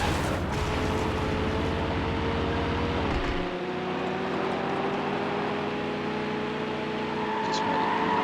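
A BMW V8 car engine in the racing game Need for Speed Hot Pursuit 2, a high-pitched, steady engine drone that drops sharply in pitch and intensity partway through, as if shifting gear, then continues more subdued.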